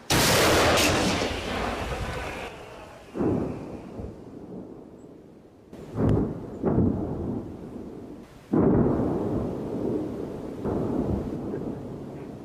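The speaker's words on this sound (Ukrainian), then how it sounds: "Постріл!" Several heavy booms of artillery fire in wartime Ukraine at irregular intervals, each a sharp blast with a rumbling decay, sounding fairly distant.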